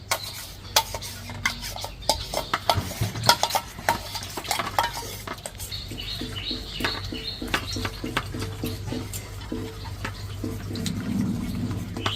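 Milk and palm fruit pulp stirred in a pot, a steady rhythmic scraping and sloshing of a utensil working through liquid, continuous and fairly close, with faint ticks and background hum.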